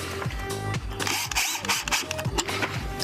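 Parts being fitted and screwed in place while installing an electric vehicle charging station, with close ratcheting and clicking tool sounds in short busy bursts and some knocking.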